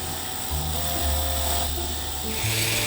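A power drill bores into concrete, a loud, close, grinding whine that shifts pitch as the bit bites and the motor strains, running continuously without a break.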